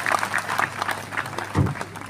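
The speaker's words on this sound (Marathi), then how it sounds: "असे सगळ्यांनी जोरदार टाळ्या वाजवून चला" Audience applause at a Diwali morning music event, a dense patter of many hands clapping that continues under a voice calling out.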